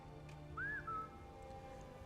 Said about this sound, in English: so I've just whistled for him